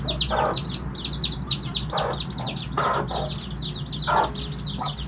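Chickens with small chicks among them, the hens clucking in short bursts while the chicks cheep in a rapid high chatter throughout, over a steady low background hum.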